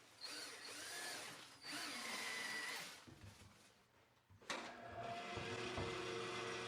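A power drill drives small-headed deck screws through a post wrap into its frame. Two whirring bursts, each about one to three seconds long, are separated by a brief pause, then a third long run of the drill follows.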